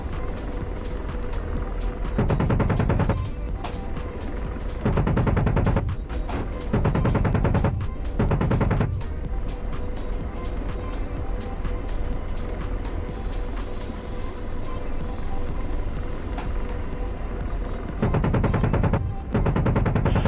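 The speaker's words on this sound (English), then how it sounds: "He's shooting at us." Bursts of heavy gunfire aimed at a helicopter in the DCS Apache combat flight simulator, several loud rapid volleys spaced a few seconds apart over a constant engine drone.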